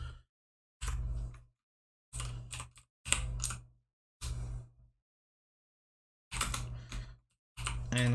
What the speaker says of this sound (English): I'm typing slowly because my keyboard is behind my graphics tablet.